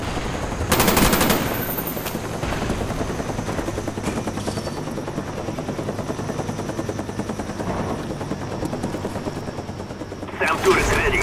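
In Call of Duty Black Ops multiplayer, a helicopter drones overhead delivering a SAM turret while bursts of machine-gun fire crackle, loud and continuous, with a radio voice speaking over the battle.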